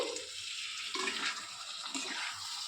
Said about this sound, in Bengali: অল্প একটু জল দিচ্ছি